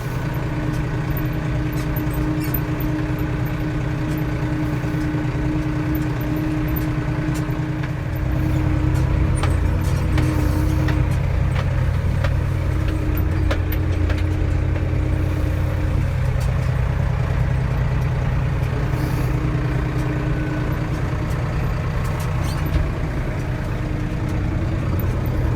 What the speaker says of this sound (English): The tractor keeps running anyway, so I've got heat in here.